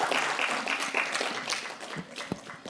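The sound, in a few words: audience applause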